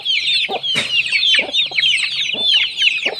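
Hens cluck repeatedly in short, busy bursts close by, overlapping one another with a constant chatter of chirps.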